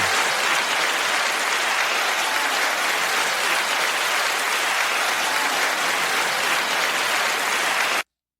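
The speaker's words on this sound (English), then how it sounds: "I think that's the longest applause I've ever gotten." Sustained applause from a podcast's live audience, loud and even throughout with no break, cutting off abruptly at the end.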